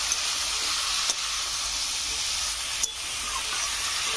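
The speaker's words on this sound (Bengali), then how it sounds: "কেটে রাখা সবজিগুলো দিয়ে দেবো। ভালো করে আমি কষে নেবো।" Cut vegetables, potato, telakucha stems and fish head sauté in hot oil with a constant loud close sizzle, broken by a couple of sharp utensil knocks.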